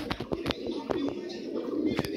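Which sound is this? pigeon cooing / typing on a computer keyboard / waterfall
pigeon cooing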